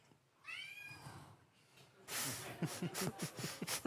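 A phone plays a cat meow sound: a short rising meow, then after a pause a louder burst of rapid meows and cat noises, heard close and alone.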